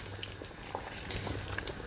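A pot of vegetable stew with sausages, bay leaves, mixed peppercorns, sweet paprika and water boils steadily, giving a continuous low bubbling and popping texture close by, with no talk.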